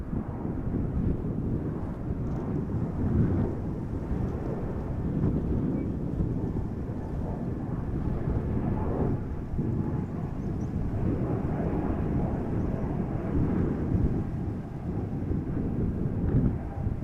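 A jet airliner roars from the runway at Amsterdam Schiphol, a continuous low rumble holding steady for many seconds with wind buffeting the microphone and no voices.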